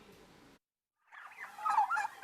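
Turkeys on a farm gobbling in a burst of rapid, wavering calls after a brief pause, fairly close and clear with no voices over them.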